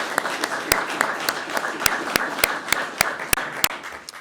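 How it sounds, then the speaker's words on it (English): An audience at a Nebraska celebration with the governor, state senators and National Guard members applauds in a broad wash, with one nearby pair of hands clapping sharply in a steady beat on top. "so can we just give yourselves a round of applause? Just everybody clap,"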